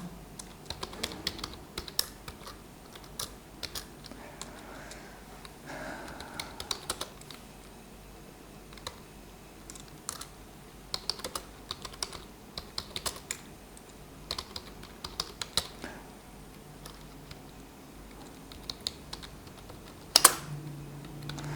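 Steady typing on a computer keyboard while writing a C program, a long run of soft, close key taps in an irregular rhythm with a sharper clack near the end, faint and without talk.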